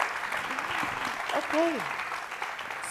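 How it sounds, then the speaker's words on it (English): Applause for a panel at the ftalks Food Summit 2023, a steady wash of clapping from the audience lasting throughout, with a voice briefly speaking over it. "So please give them a big round of applause."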